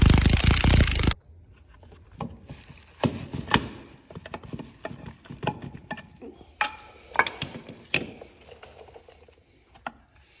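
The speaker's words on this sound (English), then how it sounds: "I just gotta tap that race in." Bearing race being tapped into an Oliver Super 77 tractor brake assembly: a series of irregular sharp metallic knocks and taps at close range, after a brief loud burst of noise at the start.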